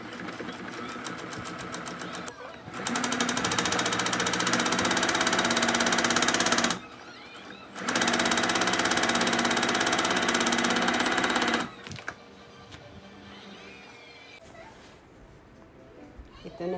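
A sewing machine stitches fabric in two sustained, loud mechanical bursts separated by a brief pause, each a rapid, even clatter, followed by quieter handling sounds.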